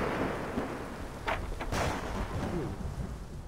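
Steady rain with rumbling thunder in the video game Assassin's Creed 3, a continuous hiss of downpour broken by two brief bright thunder cracks near the middle, with no talking.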